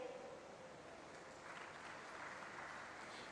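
Applause from an audience at a Uttar Pradesh Police telecommunications department ceremony for selected assistant operators, a steady, dense wash of clapping that holds evenly throughout at a moderate distance.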